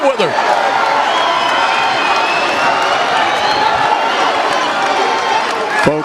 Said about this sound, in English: listen to this crowd as these two faced off